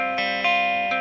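Electric guitar with a single-coil pickup played through an HK amp on a clean, bright tone in a recording studio, sustained chiming notes with a few fresh picked attacks across one second.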